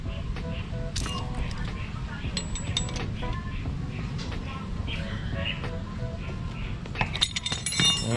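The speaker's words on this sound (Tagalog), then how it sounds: "Kung meron kayong socket wrench o kaya yung box wrench, mas maganda yon. Luwagan ko lang muna." A combination wrench loosens the oil drain bolt on a Suzuki Raider 150 motorcycle, giving scattered light metallic clicks and clinks over a steady low background rumble while someone talks.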